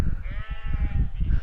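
Sheep bleat in a short outdoor burst, a wavering, nasal cry from one animal heard fairly close and loud over rumbling wind.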